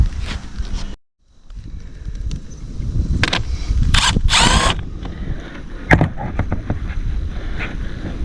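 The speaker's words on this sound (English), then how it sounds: "we're going to take these two set screws out" A power drill backs out set screws from the aluminum awning rail on a camper, with several short whirring bursts and mechanical clicks over a steady background rumble.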